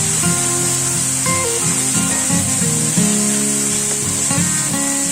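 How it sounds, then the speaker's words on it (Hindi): Chopped onions sauté in a pan for mushroom masala, giving a steady close sizzle and hiss with scraping stirs of a spoon against the pan, continuous throughout with no talking. "अब हम प्याज डालेंगे, अच्छी तरह से सौते करेंगे।"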